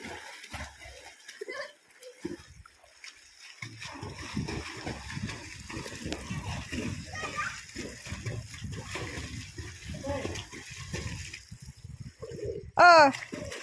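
Water splashes and churns as people swim in Kothala village, with steady sloshing running through the whole stretch and voices talking over it.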